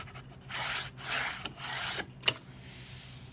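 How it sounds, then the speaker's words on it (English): Burnishing a glued paper lap book flat, pressing glue out to the edges: dry scraping rubs against paper in several sweeping strokes, close and alone, ending with a sharp tap. "you also want to burnish it just to get that glue out to the edges good and to get the whole thing really pressed down onto your book"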